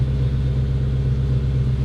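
An Audi S4 engine idles steadily after starting, a loud, continuous low rumble with no revving or breaks, heard alone without talk.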